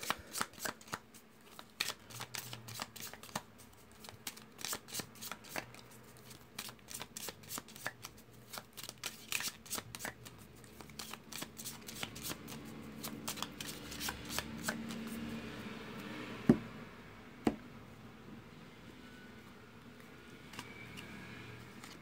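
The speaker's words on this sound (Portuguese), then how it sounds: "Vamos lá embaralhando para começar." Cigano tarot cards being shuffled by hand, a long run of crisp riffling flicks and soft slaps in an uneven rhythm, close and quiet with no talking.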